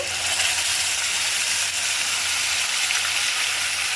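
Onions and spice paste sizzling in hot frying oil while making a Bengali fish curry (doi katla), a steady, loud, close hiss with no talking.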